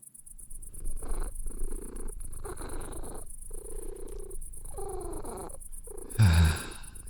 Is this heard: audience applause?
no